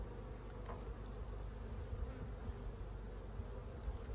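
Honeybees hum steadily in an open hive during a mite check, a dense continuous drone close by with no talking.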